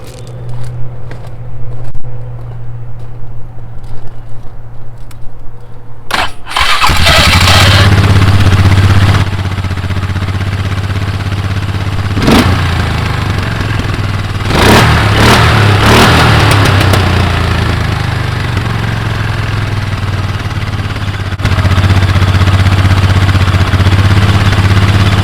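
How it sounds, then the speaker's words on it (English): Polaris Sportsman 500 ATV engine cranks for a few seconds with some starter noise, then catches and settles into a loud, steady idle that runs to the end, with no talking. "Overall, seems to be able to start up well. It just has a little bit of noise with the starter engaging"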